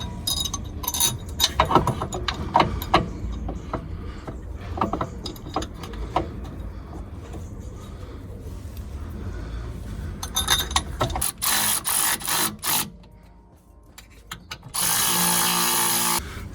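Laser Tool subframe bush kit on a Skoda Superb, with the B7 piece being fitted by its two screws: a run of close, irregular metallic ratchet clicks and tool clatter, then a brief burst of rapid clicking and a dense steady whirring near the end.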